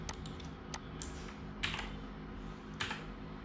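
Light keystrokes patter across a computer keyboard, soft and steady with a few sharper clicks standing out, close and quiet with no talking.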